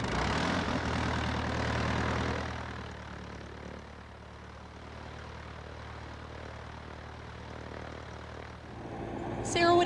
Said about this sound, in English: I'm getting ready to start the engine, Meg.